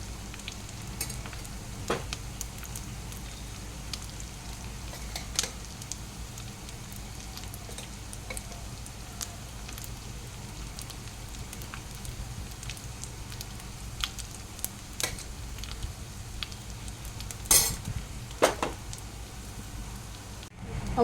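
Rice sizzles steadily in a hot frying pan as it is stirred, a continuous crackling hiss broken by occasional sharper scrapes and clatters of a utensil, with no speech.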